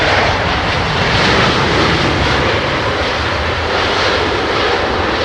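A Lufthansa A320neo airliner in the old livery lands at Heathrow in low visibility, a loud, close, continuous engine roar that stays strong and even throughout, with no voices.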